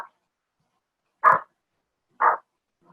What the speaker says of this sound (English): They're barking, who knows why.